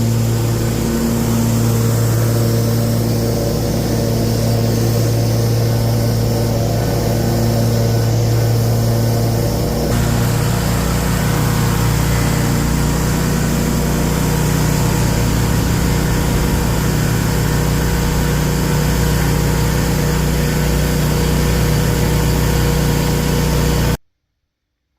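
Lawn mower engine running while mowing a soaked, overgrown lawn, a loud steady droning hum with a shift in load partway through, close and continuous until it cuts off at the end.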